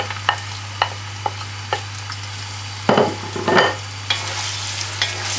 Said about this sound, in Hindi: तो आप इसमें अपने अनियंस और अदरक दोनों को ही इकट्ठे मिक्स कर लें।